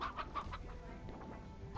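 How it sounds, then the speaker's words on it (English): A stony hen in the video game Slime Rancher clucks in a quick run of short, close, faint calls over a low background hum. "Oh, stony hen, stony hen, stony hen."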